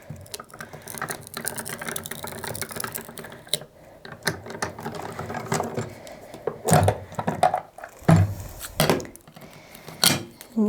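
A Sidekick die-cutting machine rolls dies through with a run of ratcheting mechanical clicks and knocks that come in uneven bursts, close and moderately loud, with a little talk in between.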